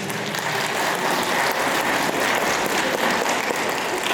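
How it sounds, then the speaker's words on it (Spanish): Wedding guests applauding in church after the couple's first kiss, a dense, sustained burst of many hands clapping at once, steady and fairly loud without voices. "felicitaciones para ellos, aplausos"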